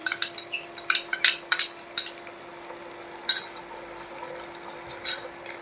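A spoon stirs whisked yogurt with salt and a little sugar into cooked spice masala in a pan. It makes a run of light, irregular clinks and scrapes against the metal over a steady low hum, with no talking.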